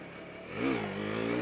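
Husqvarna Vitpilen 401 motorcycle accelerating hard in first gear, the engine note climbing sharply and holding a loud, close, raspy drone with no talk over it.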